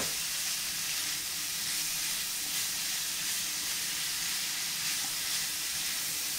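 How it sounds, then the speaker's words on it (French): Sliced leeks sautéing in a pan with lardons, a steady, even sizzle and hiss running throughout, moderately close with no talk. "Là on va rajouter nos poireaux émincés."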